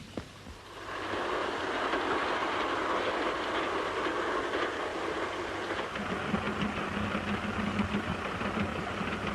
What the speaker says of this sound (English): Look, I can see the train.